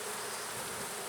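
Honeybees in a nucleus colony fanning their wings make a steady, close, continuous buzzing hum with no pauses and no voices.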